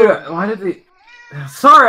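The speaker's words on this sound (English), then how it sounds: "Oh, that was my cat." A domestic cat meows between spoken words, a short clear tonal cry heard close by in a quiet room, with people talking around it.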